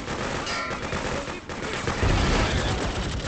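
Machine gun fire in the 2003 video game Freedom Fighters, steady loud bursts of automatic shots with battlefield noise, a heavier thump near the end.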